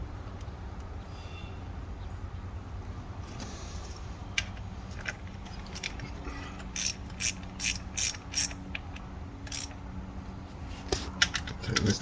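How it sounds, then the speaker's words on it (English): A wrench tightens a spark plug on a Dodge Durango HEMI engine, giving faint ratcheting ticks that begin sparsely and then come in short quick bursts over a low background hum. "Tighten this down with the wrench."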